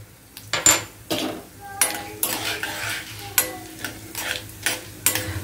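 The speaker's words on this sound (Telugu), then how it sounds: "చాలా తాలింపు గింజలు వేగుతున్నాయండి" Tempering seeds and broken dried red chillies fry in hot oil, a close sizzle punctuated by repeated sharp scrapes and clinks of a spoon against the pan in an uneven rhythm.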